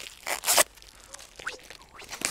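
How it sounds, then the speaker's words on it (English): Packing tape torn off a cardboard box by hand during an unboxing, with a couple of sharp ripping bursts up close, followed by softer crinkling and scraping. "Load of tape on this one."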